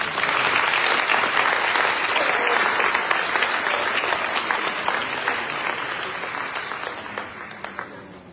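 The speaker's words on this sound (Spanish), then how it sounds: "Un aplauso para María Eugenia." A seminar audience at an international archives and document management closing session breaks into sustained, dense applause that stays loud for several seconds before gradually thinning out.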